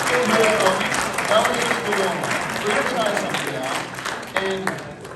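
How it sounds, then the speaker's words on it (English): An audience at a men's camp gives a round of applause for a hypnotist named Tim, a sustained wash of clapping that gradually thins out, with a voice speaking briefly over it. "A huge round of applause for Tim"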